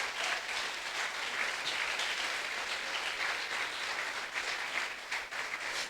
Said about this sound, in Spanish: Si vas a aplaudir, aplaude.